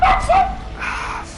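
A dog barks and yips close by indoors, a couple of quick high barks followed by whimpering, loud and near, with a faint voice underneath.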